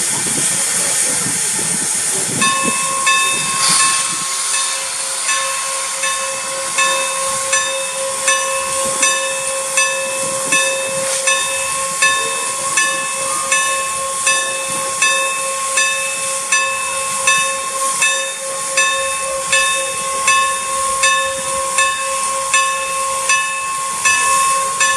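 Norfolk & Western 475 steam locomotive departing, loud rhythmic chuffing exhaust beats pulsing steadily over continuous hissing steam and a sustained tonal whine, close by.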